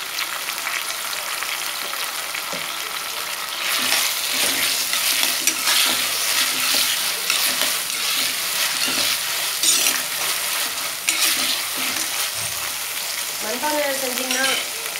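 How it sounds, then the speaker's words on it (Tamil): Onion, curry leaves and ginger garlic paste frying in a pan for mutton head curry, a steady close sizzle with occasional stirring scrapes throughout, growing louder partway in. "கருவேப்பிலை போட்டுட்டு இஞ்சி பூண்டு பேஸ்ட் போட்டிருக்கேன். நல்லா ஃப்ரை ஆகிட்டுருக்"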